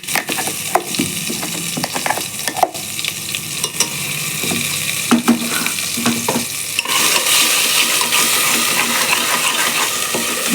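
Chicken masala sautéing in hot oil for a Tamil chicken curry, the loud frying hiss growing steadier and brighter over time, broken by clinking and scraping of a spoon against the pan.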